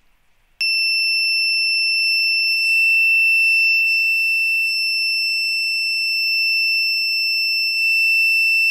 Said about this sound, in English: If you connect an active buzzer to the voltage, yeah, it sounds like this.